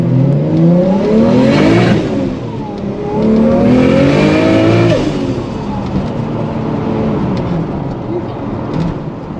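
A modified Toyota Supra engine revs hard twice, rising to a loud roar and dropping back, with a rough burbling idle between and after the pulls.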